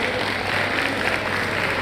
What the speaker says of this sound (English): if you let a round of applause.